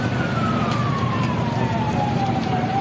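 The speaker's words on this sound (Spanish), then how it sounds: "confusión y sirenas de ambulancias" An ambulance siren wails in a street in Granada, Meta, Colombia, after a bombing, one long falling tone sweeping down over loud, dense traffic and crowd rumble.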